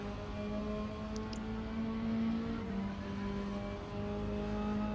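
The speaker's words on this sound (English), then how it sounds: "Looks like Van Vliet is the quickest of these three cars" Mazda MX5 Cup race cars racing at Zandvoort, a steady engine drone at moderate distance with sustained humming tones that shift slightly in pitch, no voices.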